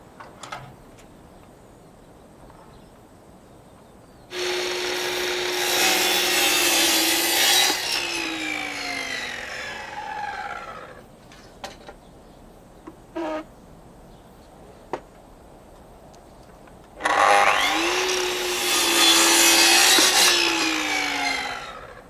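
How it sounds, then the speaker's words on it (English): A handsaw cuts through a wooden rafter in two close, loud bursts of rhythmic rasping strokes, separated by a quieter stretch with a few knocks and clicks. "here's my first rafter cut"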